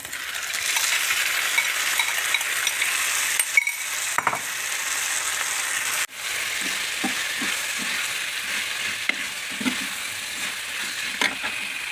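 Dates cooking in a pan with lemon added, stirred with sizzling and frying noise throughout and scattered utensil clinks and scrapes, no voices.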